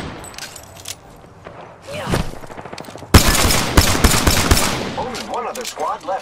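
Rapid automatic gunfire erupts in Apex Legends, loud sustained bursts with sharp repeated cracks following quieter scattered shots and game voice callouts.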